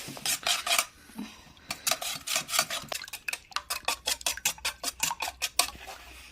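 Eggs with spices are whisked in a bowl, a fork or whisk tapping and scraping in quick, regular rhythmic strokes that speed up into a steady clicking beat, close and clear.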